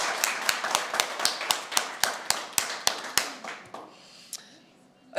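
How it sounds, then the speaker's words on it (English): Scattered hand clapping from a small seminar audience welcoming a returning colleague, a dozen or so sharp claps in a loose rhythm that thin out and fade to near silence, with a few stray claps at the end. "Give her another round of applause"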